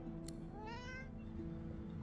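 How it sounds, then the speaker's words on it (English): A cat in the fantasy role-playing game Divinity Original Sin 2 gives a single clear, drawn-out meow over a steady low ambient hum. "The cat begins to purr and rub itself on your ankles."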